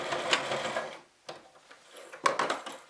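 A sewing machine straight stitching through four layers of denim, close mechanical whirring and clicking in short bursts with brief pauses between runs, no talking.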